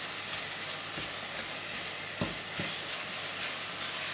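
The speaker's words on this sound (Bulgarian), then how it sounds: "Пържим ги 2-3 минути, докато умекне" Onions frying in a pan for a traditional Bulgarian onion dish, a steady close sizzle with faint stirring scrapes and a few soft knocks, no talking.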